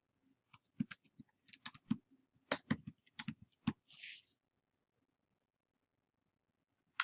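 Short bursts of quick clicking keystrokes come from a computer keyboard in a quiet room, in uneven flurries with pauses, close and fairly soft, with no one talking.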